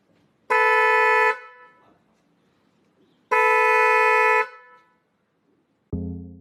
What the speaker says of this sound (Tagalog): Pwede bang magpalit ng aftermarket na busina tulad ng mga dual horn?